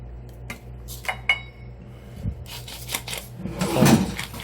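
An oven pan is taken out in a kitchen while cooking beef chili, giving a few light metallic clanks and scrapes, followed by a louder clatter of pans and utensils near the end.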